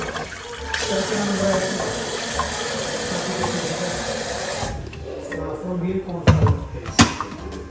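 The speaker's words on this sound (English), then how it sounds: "Now we're gonna fill up the water in the kettle." Tap water gushes steadily into a kettle for several seconds, then stops, followed by a couple of sharp clunks nearby.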